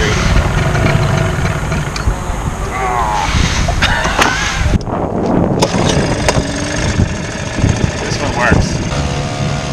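A small, dirty outboard engine on a dinghy runs steadily on the waterfront, its rough mid-pitched drone continuing throughout while people talk and call out over it.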